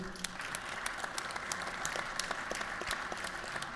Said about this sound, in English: can you give applause for Mrs. Ramsey?